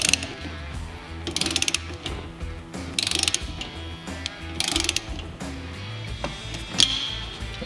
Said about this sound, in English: with a 14mm wrench and a 1/2 inch socket, hold it and tighten it down